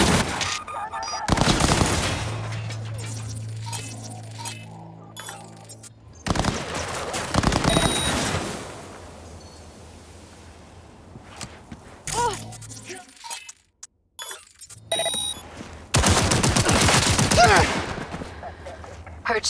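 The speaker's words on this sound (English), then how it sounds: "Heard shots." Bursts of gunfire in the Cyberpunk 2077 video game, loud broadband volleys in several separate clusters with quieter gaps between them, mixed with game ambience and occasional voices.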